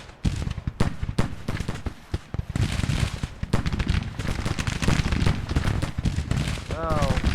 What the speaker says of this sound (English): They're shooting at us with the cavalry.